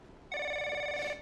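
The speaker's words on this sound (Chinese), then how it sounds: "电话，快" A telephone bell gives one short, steady ring, faint, clean and alone for about a second indoors.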